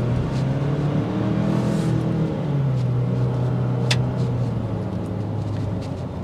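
A 2024 Ford Ranger XLT pickup accelerating on a test drive, its engine droning steadily from inside the cab with a rising tone and continuous road noise throughout.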